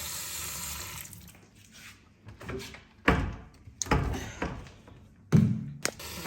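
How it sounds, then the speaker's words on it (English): Tap water runs over butter head lettuce in a colander at a kitchen sink, with soft gushing and intermittent louder splashes and thuds as the flow hits the leaves. "I put the butter head in the colander, and then I run water over that"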